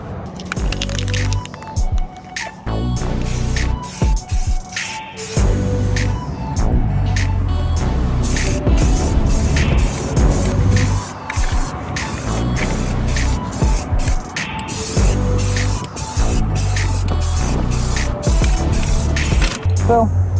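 Etching primer sprayed from a can onto the wheels of a cheap car, long close hissing bursts broken by short pauses, loud and steady throughout.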